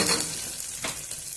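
Chopped onions and green chillies frying in a pan for coconut milk rice, with a close, steady crackling sizzle and a brief stirring scrape midway.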